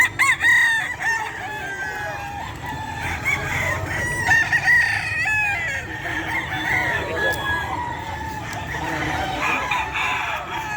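Boston Roundhead gamefowl roosters at a pet market crow loudly and repeatedly, several overlapping cock-a-doodle-doos close by, mixed with clucking and a busy crowd murmur in the background.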